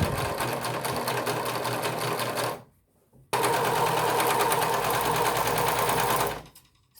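A sewing machine stitches a seam in two loud, steady rapid runs, separated by a brief pause, close and alone with no talk.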